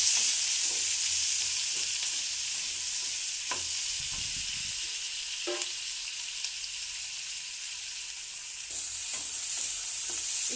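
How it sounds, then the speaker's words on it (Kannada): Whole spices (cardamom, cloves, cinnamon and black cardamom) frying in a pan for a Punjabi paneer masala gravy, giving a steady soft sizzle with occasional stirring scrapes and light clinks, no talking. "ಮೂರು ಏಲಕ್ಕಿ ಎರಡು ಲವಂಗ ಚಕ್ಕೆ ಒಂದು ಬ್ಲ್ಯಾಕ್ ಏಲಕ್ಕಿ ಚೆನ್ನಾಗಿ ಫ್ರೈ ಇರ್ಬೇಕು ರೀ"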